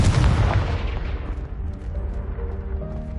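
A Confringo spell blast in the Hogwarts Legacy video game: a loud booming burst at the start that decays into a rumbling tail with faint tonal ringing, heard alone without talk.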